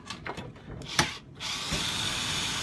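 An 8mm bolt being undone on an ATCO lawn mower, heard as a few short ratcheting clicks and a metallic tap, followed by a steady faint hiss of background noise.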